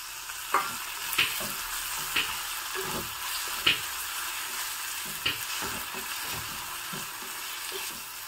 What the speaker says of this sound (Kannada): ನಂತರ ಟೊಮೊಟೊ ಮತ್ತು ಕ್ಯಾಪ್ಸಿಕಮ್ ಹೆಚ್ಚಿರೋದನ್ನು ಹಾಕ್ತಾ ಇದ್ದೀನಿ.